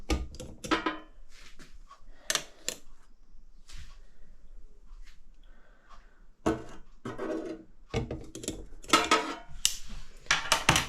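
Metal 6-inch cake tins clink and clatter as they are set into a Ninja air fryer basket, several sharp knocks in bursts with quieter gaps between.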